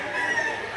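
Chickens at a poultry market in Lipa City, Batangas, with a brief, loud crowing or clucking call heard close up. It ends almost as soon as it begins.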